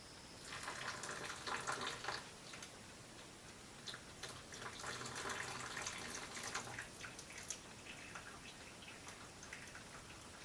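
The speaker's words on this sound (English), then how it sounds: "I'm going to pour the rest of the water in." Water pours into an off-grid one-cup coffee maker in a steady, splashy stream with patter and trickle throughout, fairly close and continuous, with no talking.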